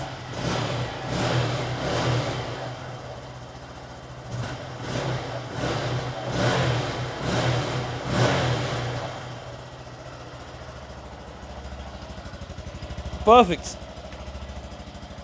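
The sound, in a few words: Honda Grom motorcycle engine running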